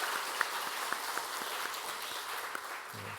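A church congregation claps together during a Korean Sunday worship service, a dense, steady wash of many hands applauding at moderate distance, with a few sharper individual claps standing out.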